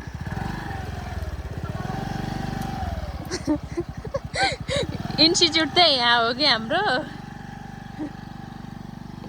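A scooter engine running nearby, a steady low buzzing drone that rises in pitch as it revs, with people talking over it.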